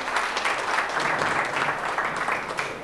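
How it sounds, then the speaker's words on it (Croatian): Audience applause in a hotel hall at the close of a chiropractic lecture, a steady dense clatter of many hands clapping throughout, fairly close and loud, with no voices over it. "Ako ste nešto okoristili, se dajte jedan aplauz"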